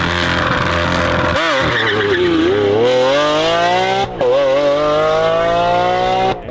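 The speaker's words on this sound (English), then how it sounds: "So fully open, wide open V12, just... This car shoots flames, it makes all the right noises." A Lamborghini SVJ Roadster's V12 with its exhaust wide open revs hard through rising gears, loud and close, shrieking upward with two brief shift breaks.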